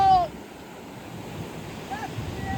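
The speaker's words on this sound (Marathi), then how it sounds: "बघू शकता समुद्राची लाटा येतो" Sea waves wash against a village shoreline in a steady, low rushing surge mixed with wind buffeting, after a short tonal chirp at the very start.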